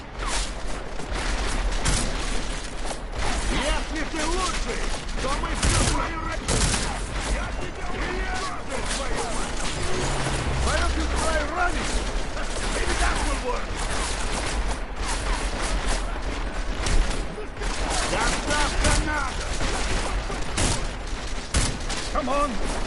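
Gunfire in the video game Deus Ex: Mankind Divided: rapid bursts and single shots crackle continuously beneath game dialogue and a player talking throughout.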